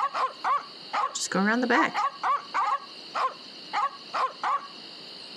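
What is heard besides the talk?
dogs barking at the mansion in The Secret of Monkey Island video game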